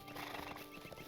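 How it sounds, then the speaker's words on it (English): Horse hooves clip-clopping in the Lord of the Rings Online video game, a steady run of close, even footfalls with a brief whinny-like tone, no talking. "let's get back on our horse"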